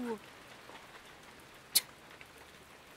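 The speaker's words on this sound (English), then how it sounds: "Rain? What a pain." Autumn rain falls as a soft, steady hiss in a cartoon weather scene, with one sharp drop-like tick partway through, while a voice may speak faintly underneath.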